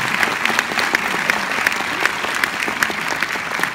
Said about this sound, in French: Je pense qu'on peut encore les applaudir pour ça.